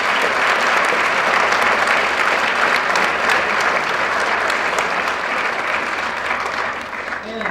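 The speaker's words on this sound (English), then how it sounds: "I want you guys to give them a big round of applause." A large audience claps steadily for retired military guests at an armed forces tribute bike presentation, dense and sustained applause that fades slightly near the end.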